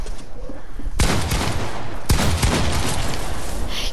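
Shooting in a video game as a player breaks an opponent's zap trap: two sharp, loud bursts of gunfire about a second apart, with a faint third shot after them, over steady background game ambience.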